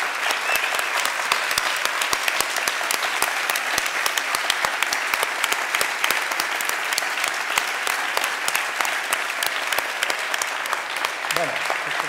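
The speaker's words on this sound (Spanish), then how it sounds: "Vamos a recibir con un fuerte aplauso" A large crowd at a political talk in Berriozar applauds steadily and loudly, dense clapping sustained throughout with a few cheers mixed in.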